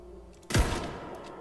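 A single heavy blast from an explosive round fired in the video game Death Relives, a sharp loud report that drops into a low booming tail and lingers briefly with no talk.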